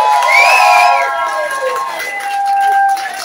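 Pub audience at the Cavern Pub's Monday Club cheering a performer, with raised voices and whoops ringing over a busy crowd for about three seconds.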